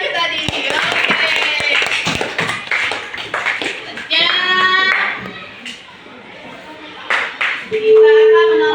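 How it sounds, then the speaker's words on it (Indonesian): Schoolchildren in a classroom clap together in a quick, loud burst of uneven applause, with children's voices and a teacher's brief speech mixed in and fading toward the end. "tepuk tangan buat temennya yang maju tadi"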